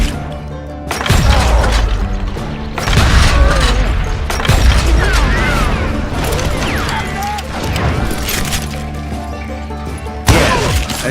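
Gunfire from hired gunmen in the Call of Juarez Gunslinger video game, heavy booming shots and crashes in bursts over about eleven seconds, loud and close, with a game voice partly heard underneath.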